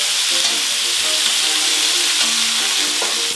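Meatballs sear in a very hot frying pan for a stovetop tajine, a loud, dense, continuous sizzle and crackle with no voices.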